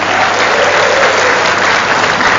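Loud, sustained audience applause in a hall during a televised Jakarta gubernatorial election debate, a dense, even wash of clapping lasting throughout with no talk over it.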